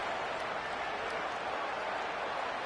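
A packed college football stadium in a video game roars steadily, a dense, unbroken wash of crowd noise with no distinct cheers or claps standing out.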